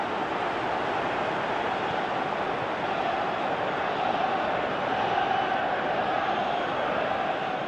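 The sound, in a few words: stadium crowd calling in PES 2018 video game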